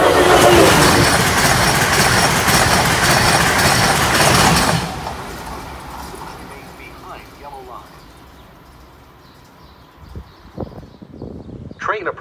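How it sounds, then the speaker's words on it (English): Amtrak train on the Northeast Corridor rumbling loudly along a station platform for several seconds, then fading to quieter platform ambience with scattered clanks and brief sounds. "Train approaching. Please remain behind yellow line."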